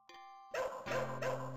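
A dog attack in the Shadow Dancer arcade game: after a brief chiming tone, loud barking bursts come in rapid, repeated, evenly spaced pulses, close and alone.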